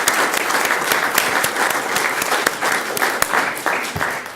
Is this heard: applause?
yes